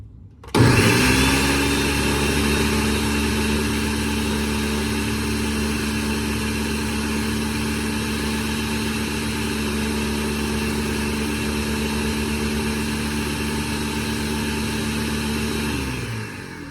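A blender starts abruptly and runs at a steady high whir for many seconds, pulverizing omelet ingredients, with a constant motor drone and no talking.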